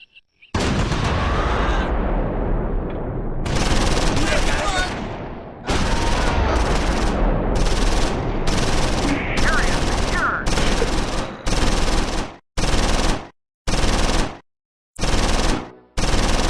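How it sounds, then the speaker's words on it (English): Close Combat 4 Battle of the Bulge wartime battle: bursts of machine-gun and rifle fire crackle loudly in repeated volleys, some long and sustained, others short with brief gaps between. "Third Platoon headquarters comes under fire."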